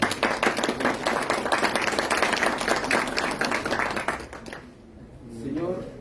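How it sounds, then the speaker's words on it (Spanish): An audience claps warmly for a university representative at a public-speaking contest held at a superior court of justice, the applause steady for several seconds before dying away into near-silence and a faint voice. "Aplausos para él, por favor."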